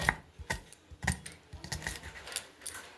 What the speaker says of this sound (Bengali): তো আমি এইভাবেই কিন্তু পেঁয়াজগুলো কেটে নিচ্ছি।